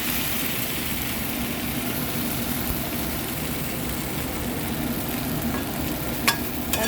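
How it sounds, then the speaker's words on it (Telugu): Banana curry being stirred with salt in a pan, heard as a steady, fairly loud scraping and sizzling that runs throughout without a break, with a brief clink near the end and no talking. "సాల్ట్ కూడా యాడ్ చేసుకుని బాగా కలుపుకోవాలండి"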